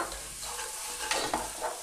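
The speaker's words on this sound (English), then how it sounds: "So I've been frying this off for a further 3 minutes" Leftover turkey frying in a pan gives a steady, soft sizzle, with a couple of brief stirring scrapes near the end and no voices.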